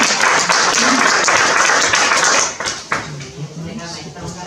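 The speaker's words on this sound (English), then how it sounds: "you can clap for him" An audience claps for Cupid the barn owl at a live bird presentation, dense steady applause that stops abruptly halfway through, leaving a few scattered claps and quiet voices.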